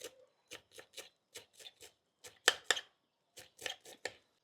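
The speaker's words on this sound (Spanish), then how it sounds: "Aquí están y vamos a picar. Picamos." Culantro is chopped with a knife on a board in short, quick bursts of crisp, close cuts, grouped in uneven rhythmic clusters with brief pauses between, quiet overall and with no talking.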